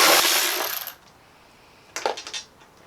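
Three small 10mm metal bolts from a Jeep XJ tail light housing set down, a bright metallic jingle followed after a pause by a short clinking rattle, close and alone.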